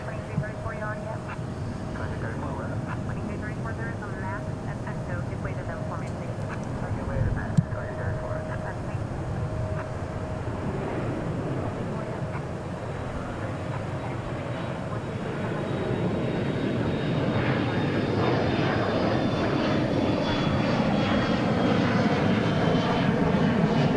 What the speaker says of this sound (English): E175 taking off to Lubbock